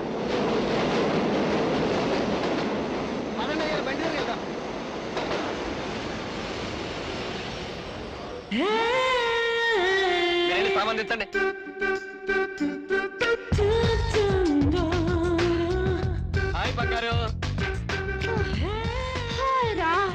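A train rolls in during a Telugu film scene, a long rumbling roar giving way to a loud, close passage of wheels and carriages with steady clicking, a shrill tonal squeal and brake-like whine over the top.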